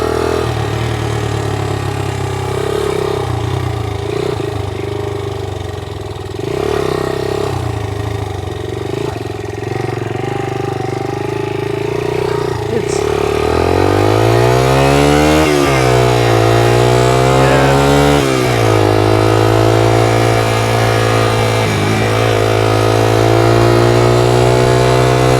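A 1982 Honda XL80S motorcycle engine, fitted with a new clutch, idles steadily up close and then revs up and down in a few rising and falling swells before settling into a higher, even run. No one speaks.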